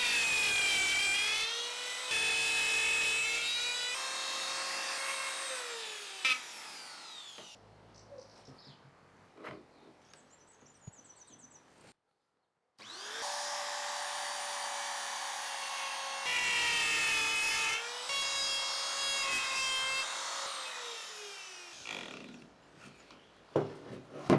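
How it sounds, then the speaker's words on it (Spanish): A handheld router cuts plywood into wheel shapes along a simple template, its loud high-pitched whine running in two long passes with a quieter stretch of scraping and handling between them. "cada pieza de triplay necesita ser cortada en forma de rueda, y para hacer esto voy a usar una plantilla sencilla y mi router"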